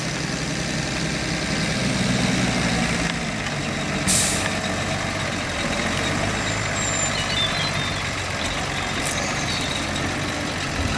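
A tractor pulling a large plough gives a continuous heavy engine rumble, fairly close and steady, with a brief hiss partway through.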